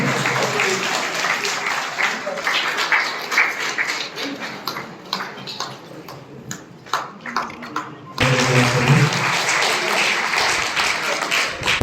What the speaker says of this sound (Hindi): तालियों की गड़गड़ाहट बहुत ही शानदार होनी चाहिए।